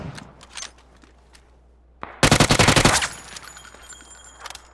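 Rapid bursts of automatic gunfire in the video game PUBG ring out mid-clip, preceded by a few scattered shots and quieter clicks.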